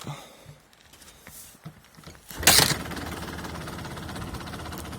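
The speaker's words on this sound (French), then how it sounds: "On va la laisser chauffer. C'est vraiment une moto qui tourne" Kawasaki KMX 125 motorcycle engine starting: a few quiet kick-start thumps and clatters, then a sudden loud catch into a steady, buzzing idle that runs on nearby.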